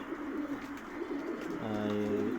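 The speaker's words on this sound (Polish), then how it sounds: "przedstawiłem Wam te moje najlepsze, najlepsze gołębie" Pigeons on a rooftop loft, with soft background ambience and then a single close, low, resonant coo near the end.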